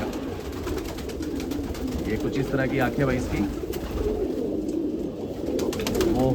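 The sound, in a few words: Hyderabadi black fighting pigeon cooing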